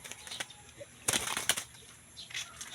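Alimokon pigeons nearby flap their wings in short, loud bursts, with faint soft cooing between the flutters.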